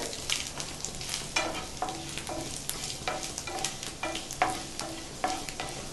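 Grated ginger fries in hot oil for a green peas kachori filling, a steady close sizzle broken by regular scraping strokes of a spoon stirring the pan, with no talking.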